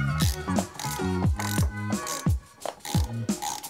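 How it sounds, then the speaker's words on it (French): A hand ratchet clicks in quick, even strokes while pre-tightening the cylinder head bolts on a 70cc scooter kit, each pull a close, crisp run of pawl clicks with short pauses between. "On effectue un pré-serrage des boulons."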